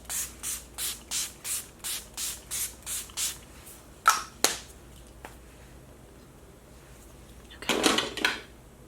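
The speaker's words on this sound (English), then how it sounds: "we're going to spray it on our face" A makeup setting spray bottle mists onto a face in about nine quick, rhythmic pumps, close up, followed by a few single sprays and a final short double burst.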